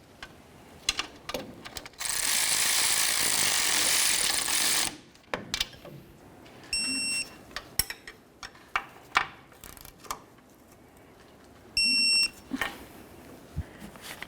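A wrench snugs up the front shock bolts on a 1998-2011 Ford Ranger, giving close, rapid ratcheting clicks in bursts along with scattered metallic taps and clunks, plus a sustained hiss for a few seconds; no one speaks.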